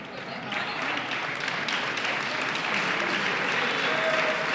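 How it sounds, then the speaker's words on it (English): A crowd at a grappling match breaks into sustained applause and cheering, a dense, steady wash of clapping that swells after the first half-second and holds loud throughout, with voices mixed in. "The crowd's cheering"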